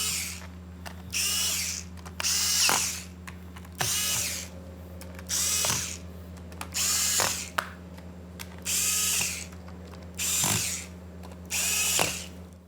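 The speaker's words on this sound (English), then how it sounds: "Put the bottom cover on, just snap it into place and tighten the screws." A powered screwdriver tightens the bottom cover screws on a Dell 3100 laptop in about eight short whirring bursts, each a second or so long, separated by brief pauses over a low steady hum.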